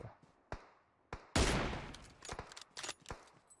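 Gunfire in PUBG Mobile on the Erangel map: scattered single shots, then a loud close burst, followed by more irregular shots and cracks of varying loudness.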